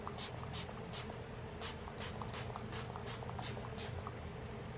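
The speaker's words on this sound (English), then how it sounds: "going back with my Dewy Setting Spray by Anastasia." Anastasia Dewy Setting Spray misted onto a face in a quick series of soft, hissing spritzes, close up over a steady background hum.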